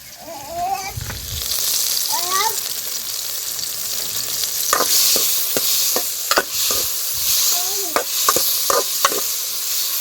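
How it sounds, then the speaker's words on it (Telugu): Tomatoes, green chillies and tamarind frying in a pan, a steady close sizzle with repeated sharp scraping stirs of a spoon, brief faint voice near the start. "ఇంక ఇవి ఒక్కటే పచ్చిమిరపకాయలు టమాటా పండ్లు ఒక్కటే ఇట్లా వేపుకోవాలా."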